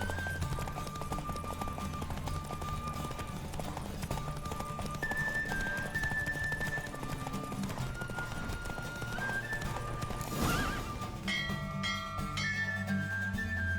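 Hooves clip-clop in a fast, steady rhythm of a galloping horse during a horse race in The Witcher 3: Wild Hunt, layered over the game's music and effects.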